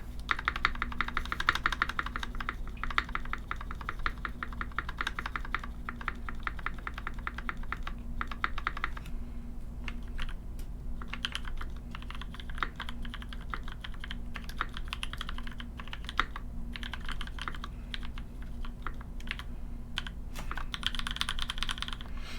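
Steady, fast typing on a custom mechanical keyboard in a polycarbonate case fitted with NK Cream switches, its dense clacks continuous and close-up throughout with a low hum underneath and no talking.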